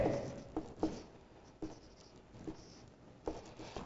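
A teacher writes on a board during a coordinate geometry maths lesson, with soft scratchy strokes coming in short bursts. The writing is quiet and close, and no voice is heard.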